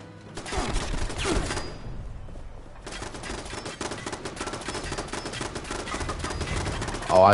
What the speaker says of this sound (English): Oh, I turned the turrets on.